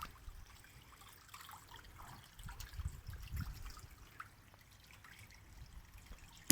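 Water trickles faintly and steadily in a small hand-dug garden pond, a quiet continuous outdoor burble with no voices.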